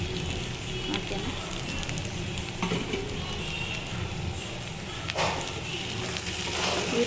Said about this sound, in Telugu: ముందుగా మనం వేయించి పెట్టుకున్న రొయ్యల్ని ఇందులో వేసుకుందాం